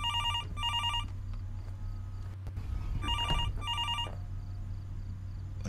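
An old-style telephone bell rings in a horror film scene, sounding in two separate pairs of short metallic bursts, fairly quiet over a steady low hum.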